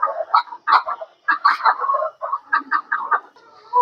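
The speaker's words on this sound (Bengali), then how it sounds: "এখানে বসে বসে মুরগিরা ডিম পাড়ে" Hens on a small rooftop poultry farm cluck and chatter close by in short repeated bursts separated by brief pauses.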